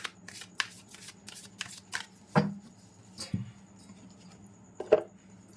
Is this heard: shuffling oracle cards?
yes